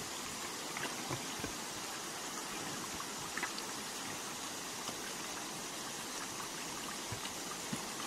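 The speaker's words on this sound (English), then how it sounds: "Adjusting the hose." Water runs steadily from a garden hose outdoors, a continuous close hiss and splash with small bumps of movement throughout and no one talking.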